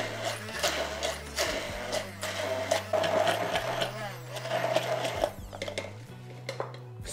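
A kitchen blender whirs as it mixes basil pesto with oil and sunflower seeds, a loud grinding motor whose pitch shifts as the contents churn, running steadily before winding down near the end.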